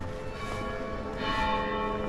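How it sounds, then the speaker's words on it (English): A church bell rings with rich sustained overtones, struck roughly twice and left to resonate, loud and close with no talking. "Bell."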